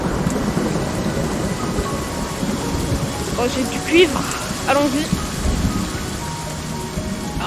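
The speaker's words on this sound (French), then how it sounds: "La tempête. Oh non, il y a des orages." A thunderstorm with rain in the video game Raccoon Lagoon, a steady dense rain wash with low rolling rumbles beneath, alongside bright game chimes and a person speaking over it.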